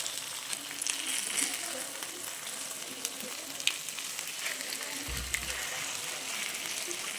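Pomfret fish coated in homemade masala fries in a pan, crackling and sizzling steadily at close range with small pops and a brief low knock near the end, and no talking.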